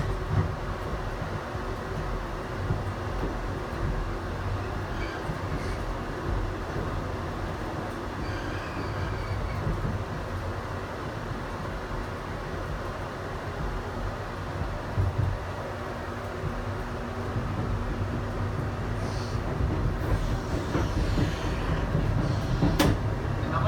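Riding in the green car of a limited express train between Yotsuya and Shinjuku, a steady low rumble of wheels and cabin hum persists throughout, with faint rattles and clunks rising slightly toward the end.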